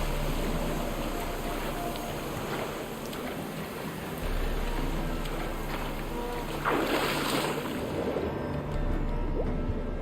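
Splashing and sloshing of a character wading into shallow water in The Witcher 3, a steady watery wash with a louder surge of splashes partway through, heard alone.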